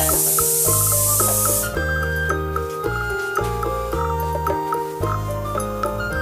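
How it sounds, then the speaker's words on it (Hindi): A pressure cooker cooking dal lets out a loud, steady hissing whistle of steam for under two seconds, then stops and gives way to rhythmic background music. "तो दाल दे रही है हमारी सीटी"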